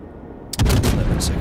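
Naval gunfire in the World of Warships video game: a sudden loud booming blast of salvo fire starting about halfway, with a rumbling tail and a further crack shortly after.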